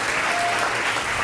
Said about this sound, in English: so we should clap at this point